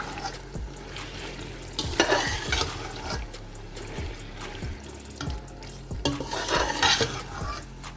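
Boneless chicken stirred and fried in a pan for a noodle dish, with a low constant hum under bursts of frying hiss and spoon scrapes that come in uneven waves, close by.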